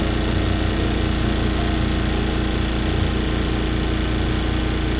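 A washing machine on its spin cycle whirls a load of laundry, producing a loud, constant, motor-like hum and rattle with no pause or change across the stretch.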